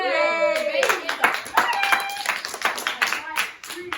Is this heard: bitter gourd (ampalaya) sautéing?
no